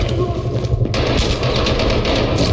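Rapid bursts of video game gunfire in a Black Hawk Down game fill the clip, loud and continuous, with some crackling and thumping mixed in.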